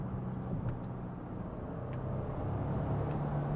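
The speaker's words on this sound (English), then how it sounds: "Actually, it's quiet, but you can hear the engine." A steady low engine hum with road rumble, continuous and fairly quiet, heard from inside a moving Audi Q8 Sportback 55 TFSIe hybrid.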